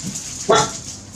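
A single short dog bark sounds once at moderate distance, brief and fairly clear against quiet background hiss.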